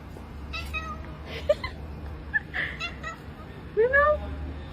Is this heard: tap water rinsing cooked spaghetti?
no